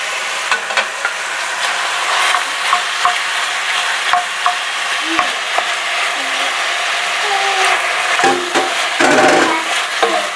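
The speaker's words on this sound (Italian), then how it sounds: "Sentite sfrigolare?" Minced meat searing in a pan for baked Sicilian anellini, a loud steady close sizzle with occasional clinks of a utensil stirring, no speech.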